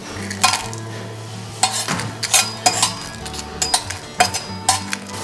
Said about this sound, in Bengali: এখন শুকনো খোলায় আমি মশলাগুলো ভেজে নেব।